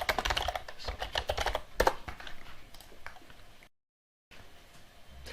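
Rapid, uneven keystrokes on a computer keyboard clatter up close, briefly going quiet before lighter tapping resumes at the end.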